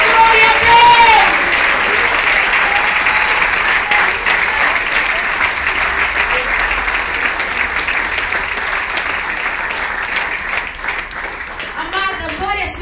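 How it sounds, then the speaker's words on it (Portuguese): A church audience gives loud, sustained applause for a long stretch, dense clapping filling the space, with a voice briefly heard at the start and end. "Dá um aplauso bem forte"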